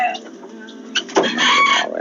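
Chickens and a rooster cluck and squawk at feeding time, a short close burst of excited fowl calls that swells into a louder crowing-like cry near the end.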